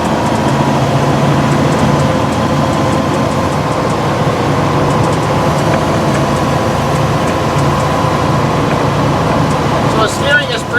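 A 1954 Dodge Power Wagon M37 truck with split wheel rims rumbles over a rough, bumpy road, its engine droning loud and steady from inside the cab with faint rattles throughout.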